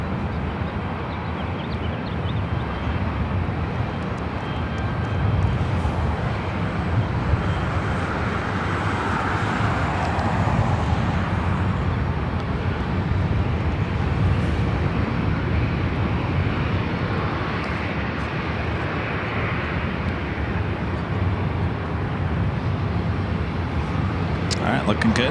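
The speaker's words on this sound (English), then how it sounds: "All right, looking good for north side takeoff on 24 right." A Delta jet airliner taking off from LAX runway 24 Right produces a loud, sustained engine roar that holds steady for the full stretch, with someone commenting over it.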